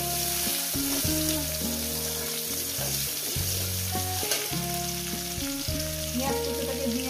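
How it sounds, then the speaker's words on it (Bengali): Chopped onion fries in a pan after cumin seeds, with a steady, soft sizzle running under louder background music throughout. "পেঁয়াজ কুচোটাকে দিয়ে আমি সুন্দর করে ভেজে নেব।"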